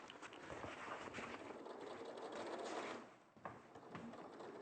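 A sewing machine stitches in a steady whirring run, quiet and continuous, briefly dipping before resuming without talk.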